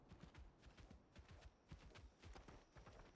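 Hooves clip-clop steadily as a horse named Stripes is ridden in a video game, a quiet, even walking rhythm of light hoofbeats throughout with no voices.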